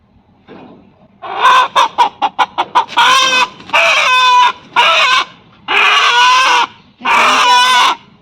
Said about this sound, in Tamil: எங்கள் தோட்டத்தில் நாட்டுக்கோழி இருக்குது